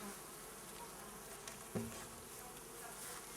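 Steady buzzing of honey bees inside a hive fills the background, faint and continuous, with a brief soft bump partway through.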